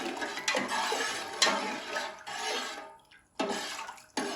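Water swirls and sloshes in a pot as food colouring is stirred in for zarda rice, close and fairly loud, in several bursts with a short quiet gap partway through.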